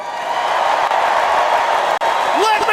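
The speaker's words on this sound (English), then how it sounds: "Let me hear you cheer if you support Israel." A convention hall crowd at the 2024 Republican National Convention in Milwaukee cheers in a dense, steady roar, with a brief voice rising near the end.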